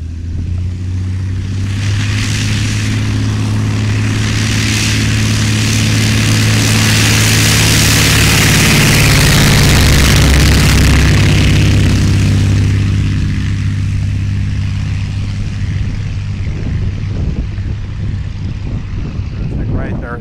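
A Stinson L-5 Sentinel, a light high-wing liaison plane, takes off: its engine drone swells from a steady low hum into a loud roar near the middle, then fades away into the distance.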